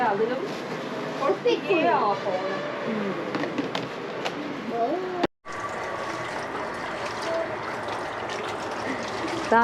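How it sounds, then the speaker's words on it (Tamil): Dishes and pans being washed in a shop sink under running water, with clattering and clinks over a steady stream, a brief break in the middle, and people talking throughout. "இப்போ சிங்கில கழுவிட்டு இருக்கிறோம்"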